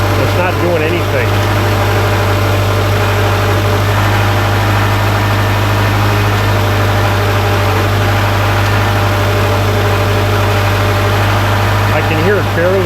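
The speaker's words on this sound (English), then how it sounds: "I can hear it barely changing the idle." A Subaru engine from the 2005-2012 era idles steadily under a hood during camshaft timing diagnosis, a constant low hum with someone talking over it at the start and end.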